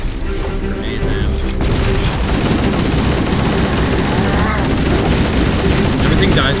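Grenade blasts and rapid gunfire from Halo: Combat Evolved on easy difficulty, a loud continuous barrage of booms and shots under a talking voice.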